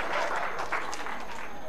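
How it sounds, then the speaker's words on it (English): A seminar audience breaking into applause, a short burst of dense mixed clapping with some crowd voices underneath, loud and continuous. "give yourselves a round of applause."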